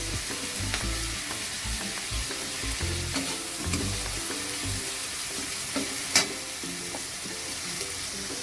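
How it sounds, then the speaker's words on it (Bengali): Tomatoes go into a pan already frying ginger paste and chillies, giving a steady close sizzle and crackle with occasional stirring clatter and one sharp scrape near the end. "এবার টমেটোগুলো দিয়ে দেওয়া হবে।"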